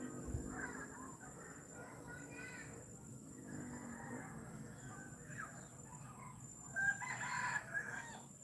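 Chickens and a rooster on a farm in Bohol cluck and crow faintly in the distance, with a brief crow standing out near the end over a quiet outdoor background.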